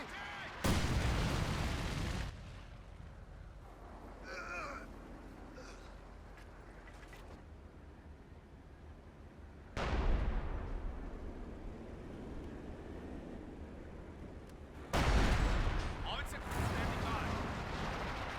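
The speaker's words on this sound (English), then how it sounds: "also got a barrage hitting the KV-1" Artillery barrage shells slam around a Soviet KV-1 heavy tank in Company of Heroes 2, with three heavy booming blasts at intervals and lingering rumble between them, while a commentator talks over the battle.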